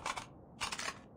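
Weapon reload in Call of Duty battle royale gameplay: two short bursts of crisp mechanical clicks and clacks, close and fairly quiet, separated by a brief gap.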